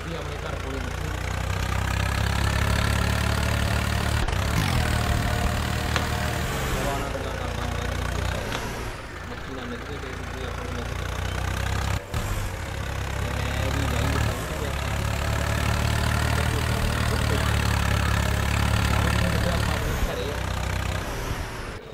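A tractor engine idles and runs with a steady low diesel rumble for the whole stretch, dipping and swelling slightly, while people talk intermittently over it.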